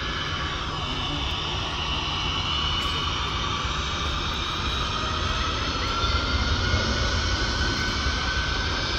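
A jet airplane roars loudly and steadily during takeoff, a broad rushing engine noise that swells slightly toward the end, with no voices.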